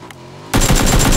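Gunfire in the battle royale game PUBG erupts after a quiet half-second: loud, dense bursts of rapid automatic shots, close and unbroken to the end, with no talking.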